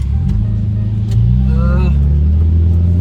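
Steady low road and engine rumble from inside a 1995 BMW E36 320i automatic at highway speed on a toll road, with a voice speaking briefly over the drone.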